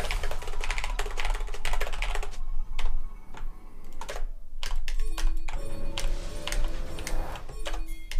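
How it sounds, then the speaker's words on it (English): Rapid clattering keystrokes on a computer keyboard during a League of Legends match, close and steady in irregular bursts with short pauses, no talk over it. "I'm fucking typing"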